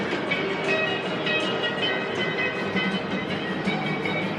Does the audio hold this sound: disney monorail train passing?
yes